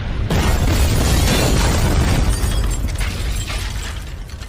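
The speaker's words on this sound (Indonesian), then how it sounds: "mobil yang dinaiki oleh Stephen meledak saat itu juga" A car blows up in a film action scene, a loud broadband blast that sustains a dense roaring, crackling rumble for several seconds before slowly easing off, with no voices.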